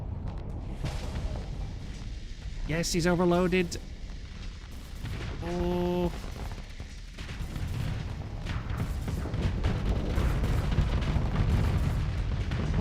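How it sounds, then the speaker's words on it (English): Cannon fire in the space combat game Starsector during a fleet battle against capital ships and cruisers, a dense rumbling barrage of booms and impacts with electronic alert tones, while someone comments excitedly over it. "Cannons."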